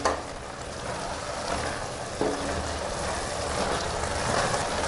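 Carrot halwa thickening in milk on a medium gas flame, a steady soft sizzle and bubbling in the pan with occasional scraping stirs, close and even throughout.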